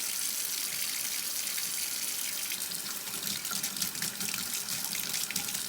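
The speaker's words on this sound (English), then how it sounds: "Now I'm going to run the hot water." Hot water gushes steadily from a tap into a sink, a continuous close hiss and splash that fills the whole stretch without talk.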